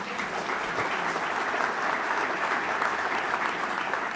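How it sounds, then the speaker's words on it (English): Steady, dense applause from a large audience at a trade ministers' session, loud and sustained throughout with no voices standing out. "And a big round of applause for Catherine"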